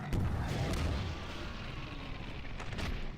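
Rocket launcher blasts and explosions during a Half-Life 2 boss fight, a dense rumbling barrage of booms with a loud onset and a second burst near the end, no talking.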